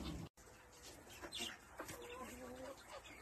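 Two roosters cluck softly nearby, a few short clucks and a drawn-out call, with faint background noise.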